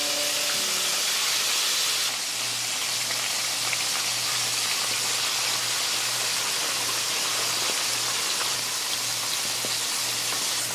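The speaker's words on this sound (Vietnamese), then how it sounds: "Bây giờ mình sẽ đi chiên cá nè." Steady dense sizzling hiss of mackerel scad frying in hot oil over medium heat, continuous and close, with a faint low hum underneath throughout.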